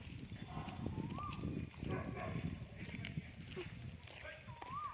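Cows from a temple cowshed walk past, their hooves making soft, uneven clopping steps at moderate distance, while people talk over them and some ambient outdoor noise continues.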